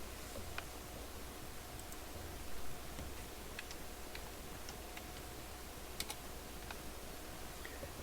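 Soft keystrokes tap on a computer keyboard in a quiet room, a sparse run of light, faint clicks over low background hiss.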